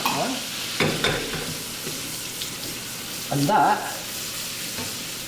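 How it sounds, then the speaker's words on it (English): Lemon juice hits browned butter in a hot pan, giving a soft sizzle and bubbling with a brief louder burst near the middle, under light kitchen talk and utensil clatter. "Now go with my lemon juice, it will sizzle a bit."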